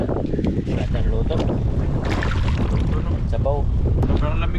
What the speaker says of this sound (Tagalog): Oh, may hangin pala, malamig na.